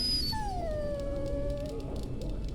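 A dog in the video game Dragon Age: Origins lets out a long, drawn-out whimpering whine that slides downward in pitch. It is heard alone, fairly close, over a low background hum.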